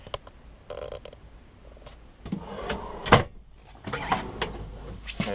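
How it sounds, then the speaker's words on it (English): A deep kitchen drawer in a 2015 Airstream Interstate Ext Grand Tour Class B touring coach slides and shuts with a sharp, close thump near the middle, among softer handling knocks and rustles. "Another really deep drawer."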